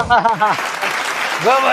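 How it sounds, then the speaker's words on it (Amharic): A studio audience applauds with a warm, broad clatter of clapping while a voice talks over it in short spoken bursts. "ለሰጠኝ ሞቅ ያለ ጭብጨባ።"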